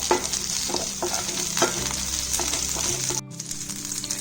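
Curry leaves and green chilies crackle and fry in a pan over popping mustard seeds, with scattered spatter pops and stirring scrapes up close, then the sizzle briefly drops away near the end.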